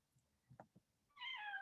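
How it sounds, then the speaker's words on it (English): A house cat meows once, a clear rising-falling call near the end that follows a few soft low thumps, heard alone and fairly close in a quiet room. "I'm sure you heard my cat meowing in the background"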